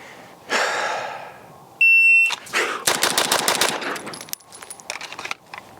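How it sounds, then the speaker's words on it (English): Pistol fired in a rapid bill drill at 7 yards on a range, a quick string of loud close shots in a tight burst, bracketed by a shot-timer beep and followed by scattered sounds. "I am literally just shooting as fast as I accurately can."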